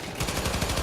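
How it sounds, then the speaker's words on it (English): Rapid automatic gunfire in the video game Syndicate sounds as a quick, evenly spaced burst of sharp shots, loud and close, with no speech. "I just shoot and the bullet goes directly to them"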